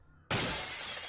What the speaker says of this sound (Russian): Она выламывает дверь, идет с той стороны, да? Ну, стекло, точнее.